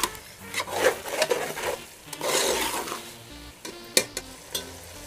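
Vegetables and potatoes frying in oil for a vegetable pulao are stirred in a pot. Uneven scraping strokes and a few sharp clinks sit over a soft sizzle, close by.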